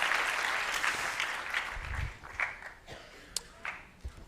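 Applause from an audience at a Gita Jayanti celebration after a Bhagavad Gita recitation, a moderate wash of clapping that thins into scattered individual claps by the end.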